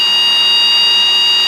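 A helicopter's low rotor RPM warning sounds as a loud, steady, high-pitched electronic beep tone that holds continuously from start to finish.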